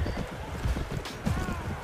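Horse hooves clip-clop at a steady trot in the medieval combat game Mount & Blade Warband, Brytenwalda mod, a rhythmic low thudding mixed with faint game ambience and no speech.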